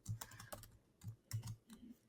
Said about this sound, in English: So literally I'm just typing in the equations and ready to match.